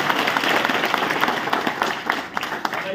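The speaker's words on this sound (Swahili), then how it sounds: "tuwapigie makofi mazuri sana" An audience at a funeral gathering claps in steady, dense applause that fades slightly toward the end, with voices mixed in underneath.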